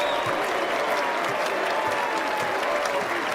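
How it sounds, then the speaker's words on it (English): Steady applause from a large NBA arena crowd fills the space, dense and continuous throughout with a faint murmur of voices underneath. "the crowd applauding the gesture by both teams"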